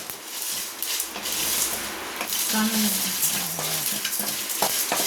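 Curry leaves, fenugreek and coriander dry-roast in a pan with a steady crackling sizzle and stirring scrapes, close and continuous, with a voice faintly in the background.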